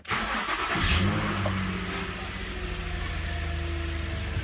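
Infiniti G35 or Nissan 350Z engine cranks and catches with a brief starter whir and rev, then settles into a steady mid-pitched idle, close by in a garage after the car is lowered off jack stands.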